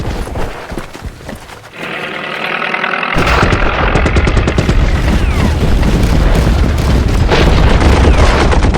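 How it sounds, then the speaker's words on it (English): Naval bombardment in a WWI strategy video game, a heavy, continuous roar of booming explosions that builds after a softer opening and keeps rumbling loudly to the end. "We're dealing with quite a lot of naval bombardment"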